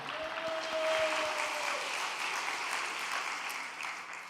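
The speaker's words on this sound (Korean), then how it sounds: "큰 박수로 맞아주시면 감사하겠습니다." An audience claps together in a steady, dense round of applause at an indoor gathering, moderately close and even throughout, with a brief tone and faint voices at the start.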